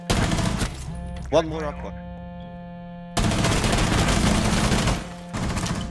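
Gunfire crackles in Rainbow Six Siege as a player shoots out a camera. The sharp bursts come in two loud volleys separated by a quieter gap, and a voice speaks briefly in between.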